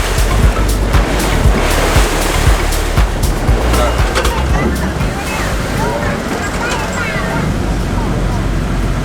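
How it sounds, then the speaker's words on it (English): A passenger boat cruising along Bangkok's main river in Thailand, water sloshing and washing loudly against the hull with continuous engine rumble and wind, faint voices in the background. "this boat basically goes through the main river that's going by all the main attractions of Thailand"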